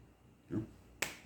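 A single sharp finger snap rings out near the end in a quiet room, preceded by a brief soft rustle; no one speaks.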